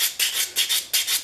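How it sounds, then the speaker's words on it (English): Hand sanding with 150 grit paper on a sanding block along the rounded edge of a steel Stanley S18 block plane, quick rhythmic back-and-forth rasping strokes, about five close passes with no talking. "I take another sanding block. I use 150 grit paper,"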